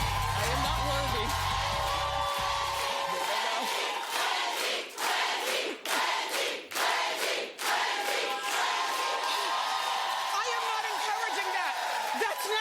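A studio audience on a talk show cheers and whoops loudly, a sustained roar of crowd noise with brief dips, close and filling the room.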